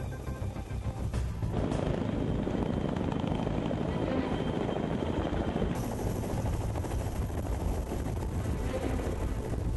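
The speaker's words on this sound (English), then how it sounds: "For this presidential mission, not one, but 4 helicopters must squeeze onto the pad." Four helicopters on final approach to a small concrete pier landing pad, a loud continuous rotor roar with steady wind rumble throughout, no voices.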